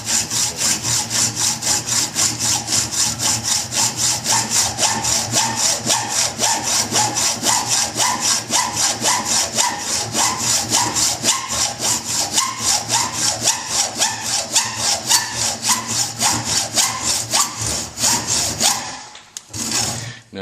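A hacksaw cuts through a workpiece by hand in steady, even back-and-forth strokes, loud and close, running continuously for about nineteen seconds before stopping abruptly.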